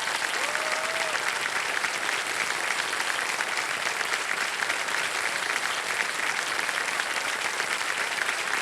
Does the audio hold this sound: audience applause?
yes